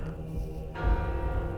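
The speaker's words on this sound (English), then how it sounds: "We get the big church bell." A big church bell tolls in the game Mortal Shell, a deep, resonant strike entering around the midpoint and ringing on with a sustained hum, fairly loud with no voices.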